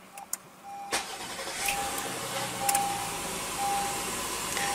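A 2015 Acura TLX's 3.5-liter V6 engine, started by push button, cranks and catches after a couple of clicks, then settles into a steady, moderately quiet idle.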